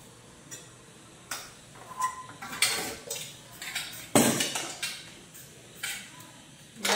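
A metal kadai set on the stove for a rasmalai sugar syrup clanks and scrapes in several uneven metallic knocks, close and fairly loud, with kitchen utensil clatter around it.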